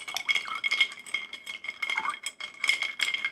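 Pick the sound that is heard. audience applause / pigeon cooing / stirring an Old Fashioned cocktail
stirring an Old Fashioned cocktail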